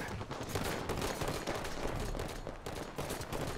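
Sustained gunfire from a Halo match, a dense barrage of rapid shots and bursts blending into a loud, continuous roar with no pauses across the whole stretch.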